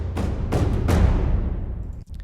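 An orchestral percussion section of djembes and taiko drums in an epic score, loud booming hits on a dense rumbling bed, with a few big strikes standing out.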